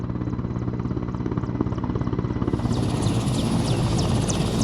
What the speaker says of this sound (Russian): на землю приземляется вертолет Минобороны Республики